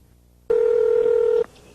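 A single steady telephone tone sounds for about a second while a number is dialed for a call to Miami, loud and clean against quiet line hiss, then cuts off abruptly.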